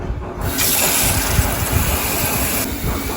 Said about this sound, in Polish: Jak w przypadku jajek na twardo, musimy zalać zimną wodą.